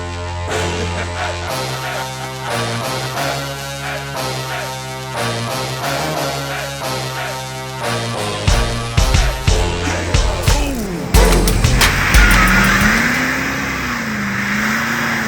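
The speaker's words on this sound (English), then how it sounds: "Turn the key, let it prime, fire it up," A truck engine fired up after a repair: music plays first, then the engine catches and revs loudly in several bursts before settling to a rumbling run.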